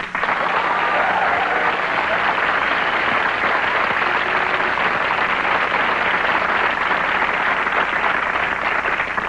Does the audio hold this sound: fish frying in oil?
no